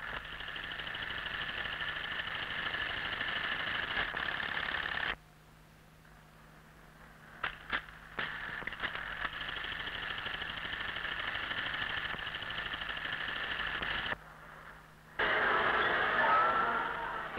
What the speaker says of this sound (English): The top of the trousers and the extension band give the clever buttonhole machine another job